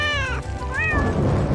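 A cartoon kitty trapped in a fire gives a loud, close meow with a rising and falling pitch, over a low rhythmic thumping beat.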